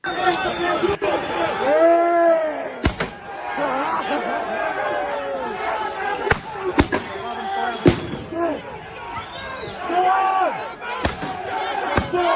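A protest crowd clashes with Garda police in Ireland at night, with loud chattering and shouting voices and sharp firework bangs and slams cracking out repeatedly through the din.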